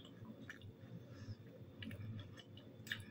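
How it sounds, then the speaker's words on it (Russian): Close, quiet chewing of a crunchy cabbage pie, soft wet crunches and squishes repeating irregularly with no talking. "Вы слышите, как хрустит капуста, как по снежку идешь."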